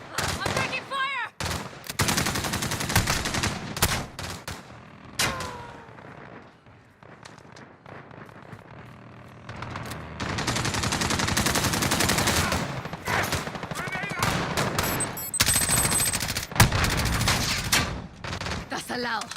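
Rapid gunfire fills a Call of Duty: Modern Warfare Spec Ops mission, with dense bursts of automatic weapons and explosions. Radio-style voices speak over the shooting, and there is a brief lull midway before heavy fire resumes.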